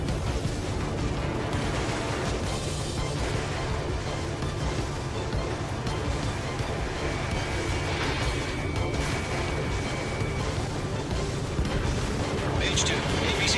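Explosions and artillery fire from the Ace Combat 7: Skies Unknown video game, a dense, continuous roar of booms and blasts throughout, with game radio chatter mixed in.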